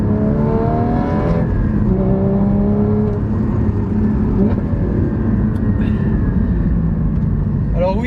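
Porsche Cayman GT4 engine in sport mode with exhaust valves open, rising and falling through rapid rev sweeps with a loud, close, rasping tone, while someone talks over it.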